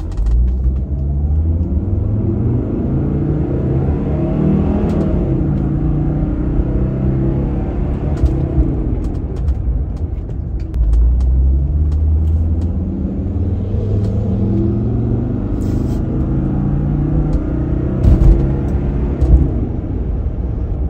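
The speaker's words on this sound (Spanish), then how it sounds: "Quiero usar este semáforo para mostrarles lo rápido acelera este auto cuando lo pisas a fondo." A Mercedes-Benz E250 W124 accelerates at full throttle from a traffic light, its engine a loud, steady, droning rumble that builds and shifts through the gears, with no talk.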